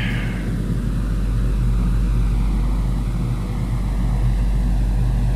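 An aircraft's engines in the Prepar3D v4 flight simulator game hold a steady, loud drone that runs unbroken throughout, deep rumble under a constant wash of broadband noise, with no talking.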